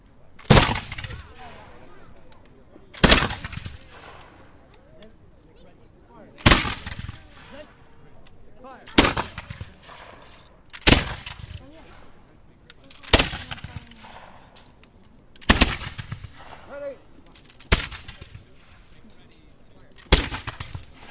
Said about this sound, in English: if you want to keep a rolling fire going, somewhat constant fire, peppering away, this is how you do it